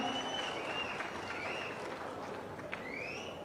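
Audience applause at a public government event is heard faintly and steadily throughout, a distant wash of clapping with no speech over it.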